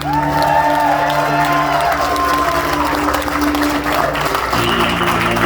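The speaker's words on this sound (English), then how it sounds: "How about a round of applause?" Enthusiastic crowd applause mixed with cheers and whoops at an event introducing Senator Dan Stec and his family, loud and continuous with scattered shouting throughout.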